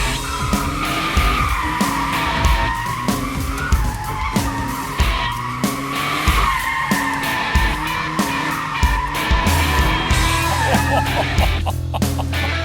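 A Mazda MX-5's tires screech and squeal continuously as it slides with traction control off, with engine roar underneath and brief gaps between bursts of skidding.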